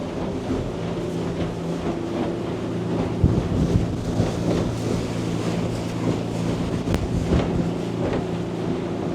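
Yellowfin Plate 76F aluminium boat powered by 300 outboards, running at 3,200 RPM around 42 km/h, gives a steady low engine drone with rushing water and wind buffeting throughout, no talk.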